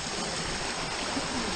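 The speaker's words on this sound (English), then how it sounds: "pretty cool little creek" A small creek in Los Padres National Forest rushes and babbles over rocks in a steady close wash of flowing water, with no talking.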